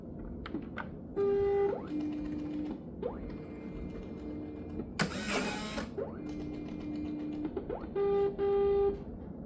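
A label printer whirs and clicks through several mechanical bursts printing laminated vinyl labels, with a sharp cutter snap in the middle, close and fairly quiet.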